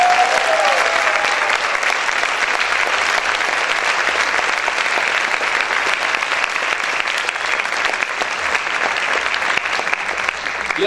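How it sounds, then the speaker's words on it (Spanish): Steady, dense applause from a crowd, loud and continuous throughout with no pauses. "vamos a aplaudir fuerte al Señor."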